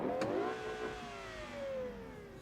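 A Lamborghini Countach with a 5-speed manual gearbox, driven in the BeamNG video game, revs its engine in a sweeping, falling whine, moderately loud and steady throughout with no voices.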